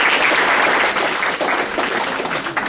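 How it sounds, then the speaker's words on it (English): Audience applause greets a student stepping up to a learning center podium to give a testimony, a dense, steady wash of many hands clapping close by that holds at full strength with no voices heard. "So would you welcome him with a round of applause?"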